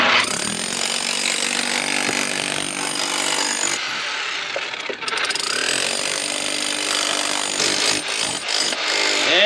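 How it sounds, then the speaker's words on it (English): Loud, continuous mechanical hammering and grinding of a jackhammer digging a tunnel roars nearby for the whole stretch, with brief dips in intensity and no voices. "Look at her go, riding that jackhammer like a pro."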